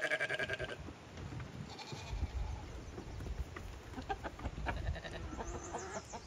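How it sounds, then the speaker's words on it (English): A goat and sheep bleat on a mountain homestead property while clearing brush, with repeated nasal calls over a rustling outdoor background, fairly close but moderately quiet. "So the goat and the sheep are now in here kind of finishing up this area."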